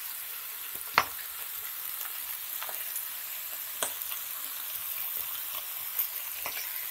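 Wood ear mushrooms stir-fried with lime leaves give a close, steady sizzling hiss in a hot pan for a spicy Indonesian dish, broken every couple of seconds by a sharp clack or scrape of the spatula; nobody speaks.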